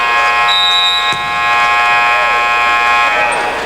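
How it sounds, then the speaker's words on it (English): A loud, sustained electronic buzzer sounds at the end of a quarter in a Roxborough High versus Camden High basketball game, one continuous harmonic tone holding steady for several seconds over a busy gym. "that will sound the buzzer, indicating we are through one"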